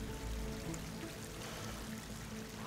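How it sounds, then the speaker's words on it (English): Water pouring in within the video game Horizon Forbidden West, a soft continuous gushing stream heard quietly beneath low ambient game tones. "Water's coming in."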